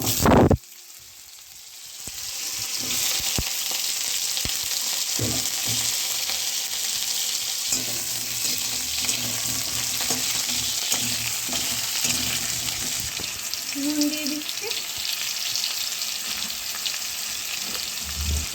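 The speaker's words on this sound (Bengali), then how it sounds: "এর মধ্যে এবার আলু দিয়ে দিচ্ছি, আলুগুলোকে ভেজে নেব।" Potatoes are dropped into hot oil with whole cumin in a pan, a short loud burst and then a steady close sizzle with repeated scrapes and taps of a stirring spatula, and no speech.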